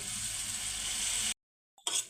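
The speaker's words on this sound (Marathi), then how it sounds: "आता याच्यामध्ये मी थोडंसं गरम पाणी टाकून घेणार आहे" A loud hiss of hot water hitting frying spices in a hot pan, then a sudden cut to silence and a faint clink with resumed sizzling.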